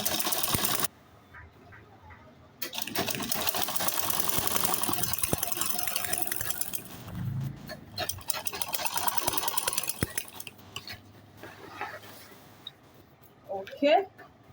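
A sewing machine runs in bursts while top stitching a large travel bag, its rapid mechanical chatter starting and stopping between pauses, with someone speaking over parts of it.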